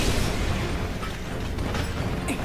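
Cloud's limit break attack in Final Fantasy 7 Remake, fought against a Type-0 Behemoth: a dense, continuous roar of clashing mechanical impacts and bursts, loud and close throughout, with a brighter metallic hit near the end.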